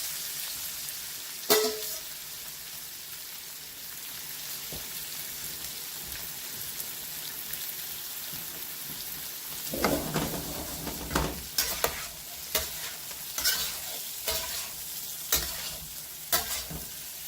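Vegetables for Jamaican callaloo and salt fish sizzle in a hot pan, a steady crackling fry with a sharp clatter early on and louder bursts of stirring and spattering in the second half.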